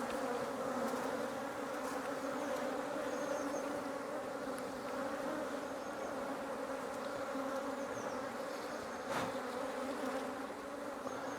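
Bees buzz continuously around an open hive during beekeeping, a steady, close droning hum from many insects with a faint passing rattle, no voices.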